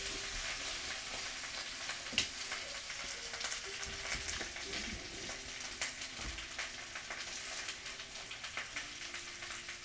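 Potatoes, onions, sausage and okra fry in a pan while being stirred, giving a steady close sizzle broken by soft scrapes and small pops, continuous throughout with no talking.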